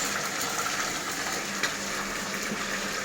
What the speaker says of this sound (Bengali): রোস্টের জন্য এখানে আমি মাংসগুলো ভেজে নিচ্ছি